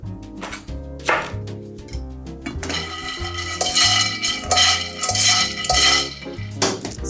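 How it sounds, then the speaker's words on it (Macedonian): A knife cuts a red pepper into thin rings on a board, giving a steady series of crisp chops and knocks, close and fairly loud, with no talk. "Ќе употребам една црвена, ќе изсечам на кругови, но тенки"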